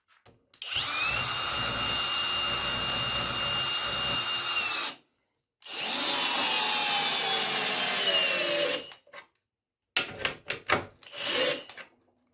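Yato YT-82797 cordless drill driving a 10 mm long, 10 mm diameter screw: a loud, steady whine for about four seconds, a short pause, another long run, then several brief stuttering bursts as the screw seats.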